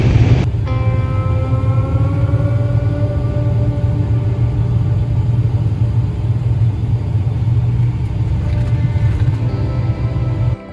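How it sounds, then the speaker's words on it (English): A loaded, fully packed 26-foot U-Haul moving truck driving along: a loud, steady low engine drone and road rumble from inside the cab, continuous for about eleven seconds with no talking. "Driving a 26-foot U-Haul, loaded, full, packed out."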